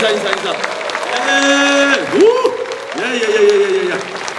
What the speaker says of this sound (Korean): 한번 저들을 위해서 뜨겁게 환호와 함께 한번 박수 주시면